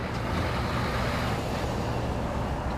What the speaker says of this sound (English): And that's the engine brake.